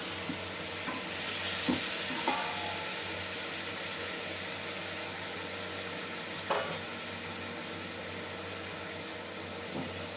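Chicken pieces stirred and fried in a pan for chicken gravy, a steady soft sizzle with a few scattered clinks and scrapes of the spoon, close and continuous with no talk.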